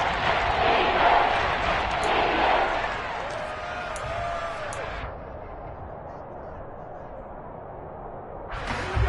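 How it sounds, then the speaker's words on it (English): Crowd at an American football stadium roars loudly ahead of a big third down, the din strongest early and then easing to a lower murmur, with a commentator talking over it. "the crowd getting into it as we come up on a big 3rd down"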